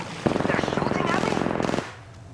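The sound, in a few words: gunfire in the video game Apex Legends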